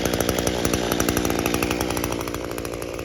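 A warm string trimmer engine idles low after a fuel system rebuild, a close, loud, rapid buzzing putter that runs steadily and eases slightly toward the end.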